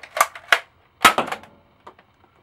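A dart blaster fitted with an Orange Mod Works Strongarm solid kit fires in a few sharp, close snapping bursts with quick mechanical clatter trailing each shot, followed by faint clicks in a quiet room.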